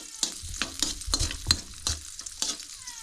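Garlic sautéed in a frying pan, a soft sizzle under a quick series of sharp stirring scrapes and knocks of the utensil against the pan.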